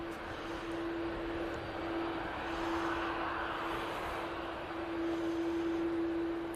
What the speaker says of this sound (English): that 737 MAX 8 is off to Venice